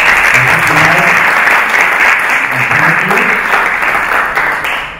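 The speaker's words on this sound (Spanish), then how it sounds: "Bueno, tenemos un fuerte aplauso." A cinema club audience gives sustained applause, dense and close, and it fades slightly toward the end with faint voices underneath.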